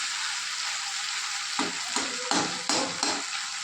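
Meat sautéing in a pan with a steady close sizzle, broken midway by several rhythmic stirring scrapes about every half second.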